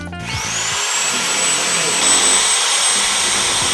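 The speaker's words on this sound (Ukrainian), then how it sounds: "ваш сусіда вже сверлить стіну, щоб негайно бути ближчим до вас" A neighbor's power drill bores into an apartment wall with a loud, close, continuous whining drone that rises at the start and then holds steady.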